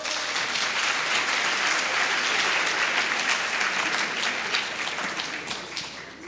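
A workshop audience applauds in a thick, steady wash of many hands clapping together, holding strong for several seconds before easing off slightly at the end, with no voices over it.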